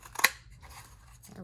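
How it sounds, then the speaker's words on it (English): A square paper punch snaps through a paper tag in one sharp crunching cut, followed by faint rustling of paper handling nearby. "I'm grabbing my square punch to see if I can get a square out of this"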